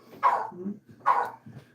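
A dog gives two loud, close barks about a second apart, each followed by a softer lower huff, with no talking over them.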